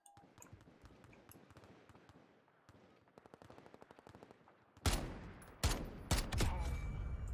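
Video game gunfire from a shooter match: a stretch of fast, rapid bursts gives way to several loud, close single shots with sharp attacks and ringing tails, no talk.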